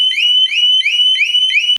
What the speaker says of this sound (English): You'll hear your alarm boot up, or scream 1 time, then pull the fuse.